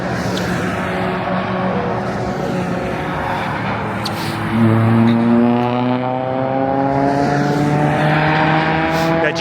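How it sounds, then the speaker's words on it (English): A BMW M3 race car engine howls loudly down the track at Fuji Speedway, rising in pitch as it accelerates through the gears, then holds a sustained roar. "You can hear that M3 down the whole track."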